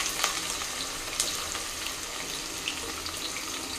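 Onions sizzle in hot oil in a pan for vegetable biryani, giving a steady crackling fry at moderate level with occasional sharper pops and no talk.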